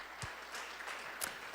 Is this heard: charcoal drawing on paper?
no